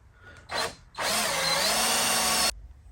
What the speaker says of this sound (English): Now I'm gonna drill out our holes.